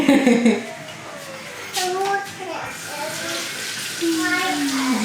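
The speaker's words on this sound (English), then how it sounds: "You just wash my hands." Tap water runs steadily while hands are washed in a home kitchen during panzerotti preparation, a moderate splashing hiss with an adult's and a voices talking over it.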